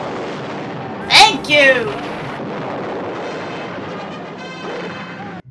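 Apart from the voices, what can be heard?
cannon fire in a Davy Crockett film battle scene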